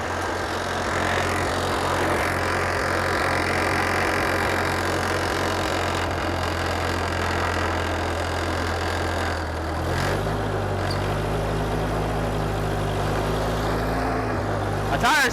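A Deutz Allis 5220 tractor strains under load while pulling, its engine droning steadily and loud as the tire spins, the pitch dropping and roughening partway through.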